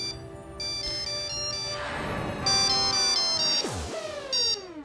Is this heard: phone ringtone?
yes